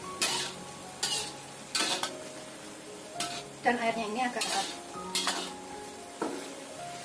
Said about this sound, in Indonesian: Kita tumis sampai buncisnya ini empuk dan bumbunya menyerap.